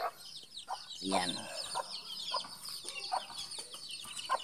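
Backyard chickens including a bantam hen clucking in a coop, a series of short nearby clucks and calls scattered throughout, with a voice speaking over them.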